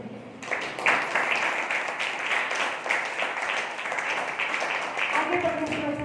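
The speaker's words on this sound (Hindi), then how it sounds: "अपने लिए ताली बजाएं" A church congregation claps during a Hindi sermon, giving a dense wash of applause that runs steadily for several seconds, with a voice speaking over it.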